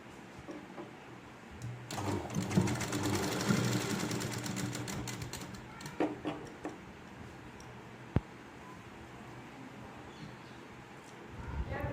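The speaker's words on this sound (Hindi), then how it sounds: "ये इस तरह से डालते हुए आप सिलाई कर लीजिए" A sewing machine stitches the panels of a Rajputi lehenga in a rapid, rattling run of a few seconds, followed by scattered clicks of fabric handling as someone talks.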